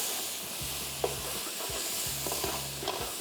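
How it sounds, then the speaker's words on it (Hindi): Dry coriander, turmeric and red chilli powder fry in a pot of prawn biryani base, giving a steady low sizzle broken by a few stirring scrapes and soft clicks, with no one talking. "ये सारे मसाला जात शामिल करने के बाद इसको भी थोड़ा सा करेंगे फ्राई"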